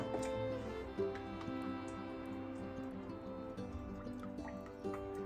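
Oil poured into a kadai on the stove for deep frying, a soft liquid trickle with faint drips over a steady tonal hum, close and fairly quiet throughout.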